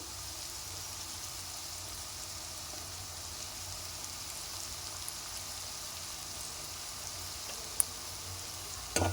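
Steady frying sizzle in a pan while cooking cauliflower egg curry, a continuous hiss heard alone with a faint clink near the end.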